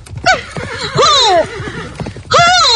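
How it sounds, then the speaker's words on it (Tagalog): A horse neighs loudly and close by in two whinnies, the second rising sharply near the end, with faint hoof clip-clops between them and no talk. "Pahinayon kong pagpadalagan sa kabayo."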